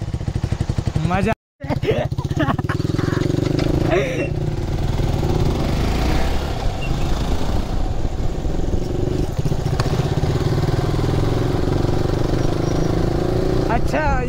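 A Yamaha MT-15 motorcycle's engine and exhaust drone loudly and close, with bassy revving and a brief cut, while voices talk over it.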